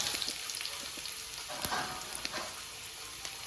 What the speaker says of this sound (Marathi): तेलामध्ये कांदा टाकलाय बाईने